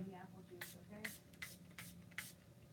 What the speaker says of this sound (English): Never even tried this makeup spray, so let's do it.